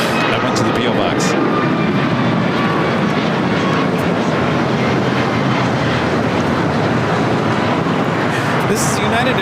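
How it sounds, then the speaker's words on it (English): United Airlines Boeing 737 MAX 9 taking off from LAX for Houston, a broad, steady jet roar with a rushing, windy edge that holds at a constant loudness throughout. "This is United Airlines 1416 taking off to Houston Intercontinental on a MAX 9."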